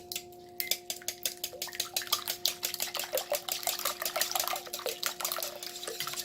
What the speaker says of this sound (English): I'm going to start by just breaking the yolks of all these eggs. Then I'm going to start whisking it together.